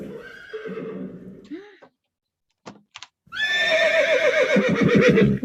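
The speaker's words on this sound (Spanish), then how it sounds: "¿El caballo o la vaca? El caballo, muy bien." A horse neighs, then a long loud whinny follows a short silence and a couple of knocks, with hoof-like clip-clop sounds underneath.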